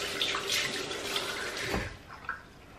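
Tap water running briefly while a makeup-removal cloth is wetted at a sink, a soft close splashing hiss lasting a few seconds, quiet and alone.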